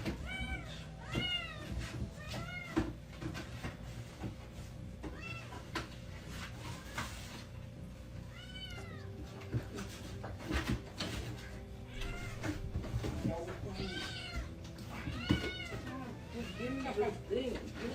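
A cat meows repeatedly in plaintive, drawn-out cries, some near and sharp, others softer, scattered throughout while a person talks over much of it.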